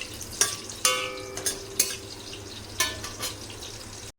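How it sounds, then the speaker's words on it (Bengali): Ridge gourd with potato and pointed gourd fry in pans on a home stove, a soft, low sizzle broken by a handful of sharp utensil clinks and scrapes at irregular intervals, with no talking. "তো এইদিকে ঝিঙে আলুটা ভালো করে ভেজে নিচ্ছি পোস্তর জন্য, আর এদিকে একটু পটল ভেজে নিচ্ছি।"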